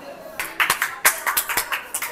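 People clapping at an interactive musical tree at a seaside tourist spot in Digha, a quick run of about a dozen close, sharp claps with voices mixed in.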